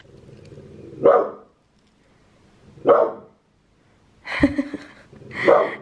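A female dog growls low, then lets out sharp barks in separated bursts, the last two louder and rougher, close to the microphone.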